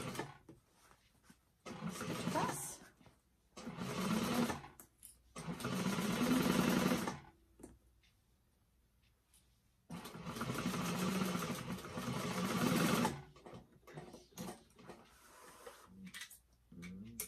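Sewing machine stitching a bag lining with back stitches, running in several separate bursts of steady motor whir between quiet pauses, close and fairly faint.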